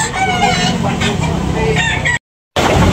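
A rooster at a chicken market in Tabunok, Talisay crows loudly and close by, its strained call filling the moment before a brief gap and a return of the noisy crowing.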